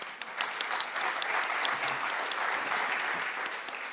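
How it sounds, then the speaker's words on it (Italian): An audience at a green economy conference applauds in a dense, steady burst of clapping that holds at an even level throughout. "l'applauso non è a me ma a SNAM"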